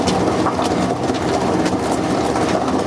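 A dough mixer runs on its third, fast speed, kneading gluten-free pizza dough with a steady, loud motor drone and rhythmic churning that holds level for the whole stretch, with no voices.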